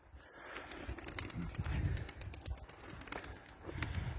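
Pigeons in a backyard coop, Kırıkkale and smoky spotted breeds, panting after a long hot-weather flight, with soft cooing, faint rustling and occasional movement throughout, a voice murmuring in the background.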